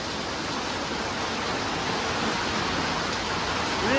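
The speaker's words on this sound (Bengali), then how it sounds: "এরকম ঝমঝমে বৃষ্টি দেখো জল দাঁড় করিয়ে দিল" Heavy downpour with gusty stormy wind, a dense, loud, continuous roar of rain hammering surfaces close by, steady throughout and swelling slightly at the very end, with no voices.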